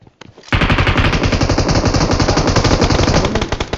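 Automatic gunfire in the mobile battle royale game PUBG Mobile: one sharp shot, then a loud, rapid sustained burst of machine-gun fire lasting a few seconds, close and dominant.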